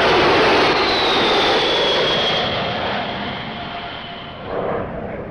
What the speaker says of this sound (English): The VC-10, one of the most popular planes to go into passenger service.